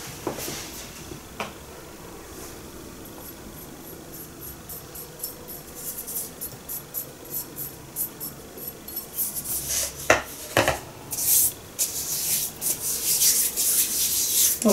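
Dark-roast cocoa powder is rubbed between the hands, making a soft, dry rasping that is faint at first and grows into stronger, louder rubbing strokes toward the end.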